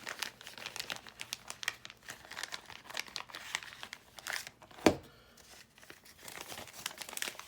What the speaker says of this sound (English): And let's remove the paper real quick.